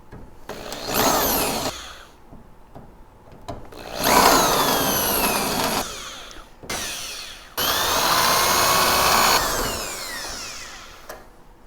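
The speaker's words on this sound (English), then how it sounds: "So I have drilled out these rivets." A power drill grinds out rivets on the rear hatch of a 1940s vintage teardrop trailer in three loud, screeching bursts separated by brief pauses, close up with no talking.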